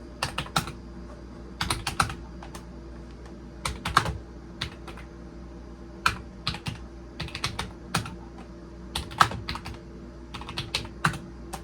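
Typing on the keyboard of a Vendex Headstart Turbo 888 XT computer, bursts of quick, crisp key clicks with short pauses between runs, close and clear over a steady low hum, no talk.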